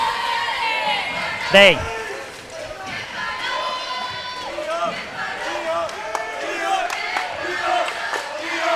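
A high school boys basketball crowd in a gym, Gatesville against Gateway, roars steadily with cheers and shouts, one sharp whistle-like cry cutting through the continuous din.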